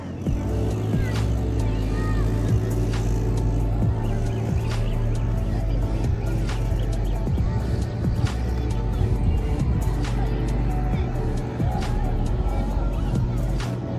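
Continuous traffic noise from cars near Varsova Beach in Alibaug forms a dense, steady roar, with a murmur of crowd voices and scattered sharper sounds mixed in.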